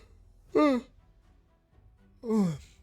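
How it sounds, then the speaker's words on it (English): Two long, drawn-out human yawns from a tired streamer, each a rising then falling breathy voiced moan, separated by about a second of near silence, close and fairly loud. "I should edit these yawns out, but I'm gonna leave them in"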